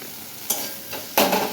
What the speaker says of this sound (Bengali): এখন হচ্ছে মশলা ভাজছি এখানে দিয়েছি আদা জিরে ধনে তেজপাতা টমেটো